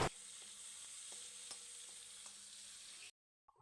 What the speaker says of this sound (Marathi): मी तेलामध्ये मिरची, लसूण, टॅमॅटो घालून घेतलेले आहे. ते आता 5 मिनटं परतवून घेऊया आपण